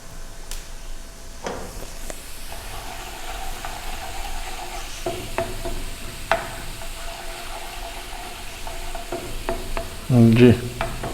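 Garlic and cumin tadka for masoor dal sizzles in hot oil while a spoon stirs and scrapes the pan, a soft continuous fry punctuated by clinks and a louder knock near the end, close up with no talking.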